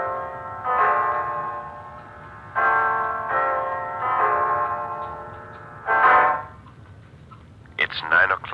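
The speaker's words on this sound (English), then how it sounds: "It's 9 o'clock, Mrs. Reeves." A clock chimes nine o'clock in an old radio drama, sounding a series of resonant bell strokes spaced roughly a second apart, each ringing out and decaying. A short burst of another sound follows near the end.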